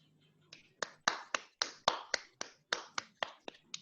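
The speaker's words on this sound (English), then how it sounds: "please give a big round of applause" Sparse, crisp claps arrive one at a time in a loose, steady rhythm, like a handful of people applauding close by.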